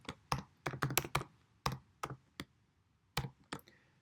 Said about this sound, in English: Now I'm going to key in using my actual information.